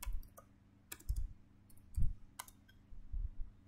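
Keystrokes on a computer keyboard entering a login command for a telnet remote-access session, a few scattered clicks and short bursts with pauses between them, fairly close and quiet over a low background hum.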